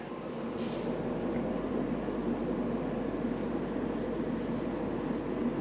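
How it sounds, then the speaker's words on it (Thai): A steady broadband whoosh from the outdoor unit fan of a Saijo Denki SUE-series 21,064 BTU wall-mounted air conditioner runs continuously, even and unchanging, with no talking over it. "นี่คือเสียงพัดลมเท่านั้นเองนะฮะพัดลมของเครื่อง"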